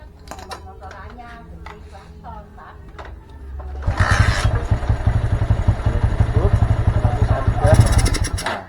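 A Honda Mega Pro Primus motorcycle engine starts after a few seconds of clicking and handling, then settles into a loud, rapid, close idle, with a brief rev near the end.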